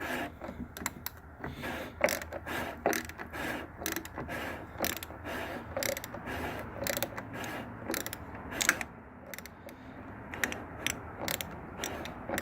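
A wrench tightens the oil filter cap on a 2007 Jeep Grand Cherokee 3.0 CRD diesel. Close, repeated mechanical clicks and ratcheting ticks run steadily throughout, with no talking.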